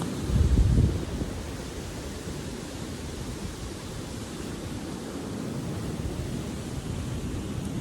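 Sea waves wash onto a beach at Destin in a steady broad hiss and rumble, with a louder surge near the start, then a continuous even wash with no voices.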